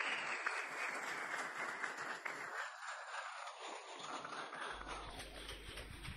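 A church congregation gives a steady wash of applause during a French-language Bible sermon, a dense, even clapping that lasts several seconds.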